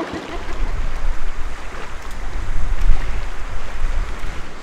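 Rushing water tumbling down a small cascade in a trout stream, a steady broadband roar with low rumbling and some wind buffeting the microphone, close and continuous.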